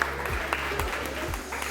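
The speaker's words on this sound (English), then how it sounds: "Give yourself a round of applause for that." Wedding guests applaud together, a steady wash of clapping at moderate volume with low rhythmic thumps beneath, continuous through a short stretch.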